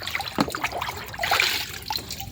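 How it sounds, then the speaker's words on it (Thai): Fermented durian-waste liquid is splashed and trickles onto pruned tree branches outdoors, with close, uneven pours and drips in short bursts. "น้ำหมัก เหลือทุเรียน สาดได้เลยเนี่ย"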